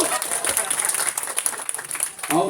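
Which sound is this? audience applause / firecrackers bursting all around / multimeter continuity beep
audience applause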